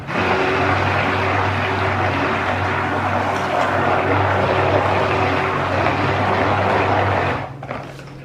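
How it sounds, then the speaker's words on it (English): A loud electric immersion blender mixing thick soap batter whirs with a steady, buzzing drone for several seconds, then stops abruptly near the end. "I will give it a quick burst with the immersion blender"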